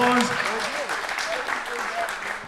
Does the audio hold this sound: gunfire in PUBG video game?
no